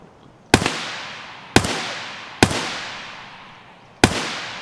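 Four separate sharp gunshots in Escape from Tarkov, each a crisp, loud crack followed by a long fading echo, spaced about a second apart with no one speaking.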